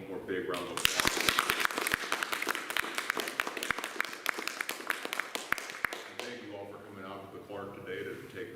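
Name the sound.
audience applause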